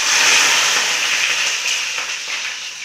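Brinjal frying in sesame oil for a Tamil brinjal gravy makes a loud, steady, close sizzle that fades slightly over a few seconds, with no talk.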